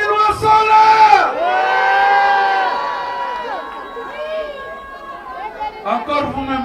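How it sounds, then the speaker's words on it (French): Guests at a traditional Gabonese customary wedding cheer, whoop and clap loudly for the couple, a lively crowd roar that swells early and then tapers, with voices shouting over it. "Applaudissez pour le couple."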